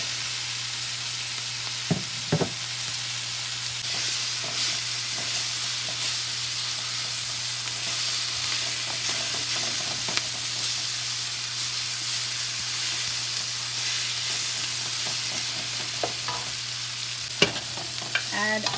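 Potatoes for aloo gobi fry in a pan with a steady, close sizzle and occasional stirring clatters, with a constant low hum underneath and no talk.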